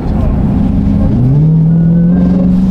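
A Dodge Hellcat engine with an aftermarket intake revs loudly with a deep, rumbling growl, its pitch climbing and holding high, with voices faintly underneath.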